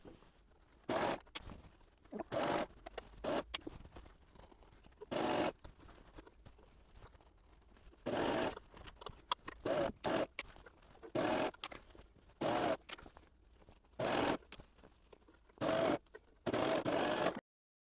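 A serger sewing machine stitching an apron fabric, running in repeated short bursts of fast mechanical whirring separated by quiet pauses.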